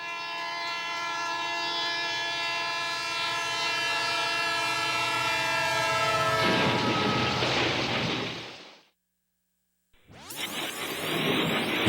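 Railside crash scene: a large train sounds a long, loud, sustained multi-tone horn for several seconds, then roars and rumbles as it passes. After a brief near-silent gap, a harsh, noisy burst follows.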